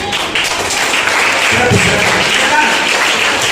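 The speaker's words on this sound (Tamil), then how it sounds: "ஒரு கைத்தட்டல் போடுங்க" A school crowd at a Kamarajar Day celebration claps in a short, even round of applause, fairly loud and close, with a faint murmur of voices underneath.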